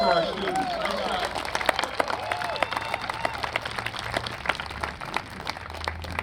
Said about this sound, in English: Let's give it a round of applause for our students